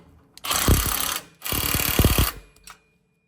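Ratcheting hand socket wrench with a 9/16 inch socket tightening a bolt during a lift kit install on a Jeep Gladiator truck, heard as two bursts of rapid clicking, each about a second long, up close with a short tail at the end.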